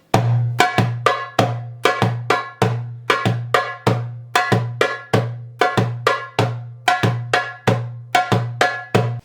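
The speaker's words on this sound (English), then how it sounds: "Its bass, Ayub, is played like this." A darbuka repeats the steady two-beat Ayub rhythm of deep resonant bass strokes and sharp higher taps, close and clear with no voices.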